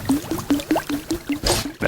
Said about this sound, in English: this is the noise of the bait I'm using, this creeper